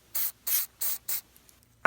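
Four short, even hissing bursts of silicone spray from an aerosol can onto an airsoft 1911 pistol in quick succession, close and fairly soft, followed by a brief knock.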